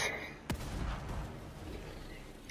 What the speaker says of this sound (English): So let's see with the explosive bolts.